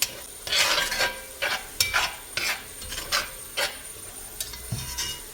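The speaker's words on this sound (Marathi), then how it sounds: "मिक्स करताना हलवताना ते कढईचा आवाज येतो कारण कढई लोखंडाची आहे आणि चमचा स्टीलचा आहे" A steel spoon scrapes and stirs repeatedly against an iron wok in uneven strokes over a faint sizzle of drumstick and potato curry, no voices.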